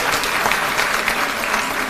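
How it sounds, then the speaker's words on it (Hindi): An indoor crowd at a public event in Delhi applauds loudly, with dense, continuous clapping from many hands and no voices over it. "एक बार जोरदार ताली बजा दीजिए सब लोगों के लिए।"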